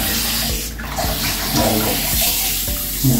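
Water pours and splashes steadily in a bathroom while a pet cat is bathed, with brief gurgling bursts and no talking.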